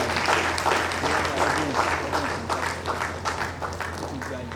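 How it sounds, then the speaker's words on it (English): Conference audience applauding a speaker, with sustained mid-distance clapping from a large crowd over a low steady hum, some faint voices mixed in. "Please, he deserves a big round of applause."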